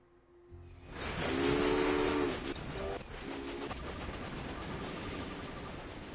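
A freight train in the railroad-building video game Railway Empire rolls past with a steady rumbling hiss and brief whistle blasts near the start. The sound swells and then settles into a continuous low rush, with no voices.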